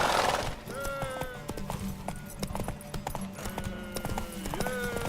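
Horse hooves clip-clop steadily through a Witcher 3: Wild Hunt game scene, a close rhythmic gait running the whole way with scattered sharp knocks and voices passing over it.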